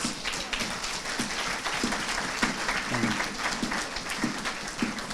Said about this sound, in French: Acclamons fort les noms de Jésus